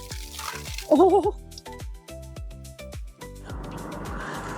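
Water bursts from a heavy fire hose, a steady, close rushing spray that starts in the final second and a half after a run of rhythmic clunks and knocks, with a brief exclamation from a voice.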